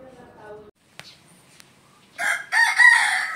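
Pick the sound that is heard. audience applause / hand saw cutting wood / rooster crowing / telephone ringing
rooster crowing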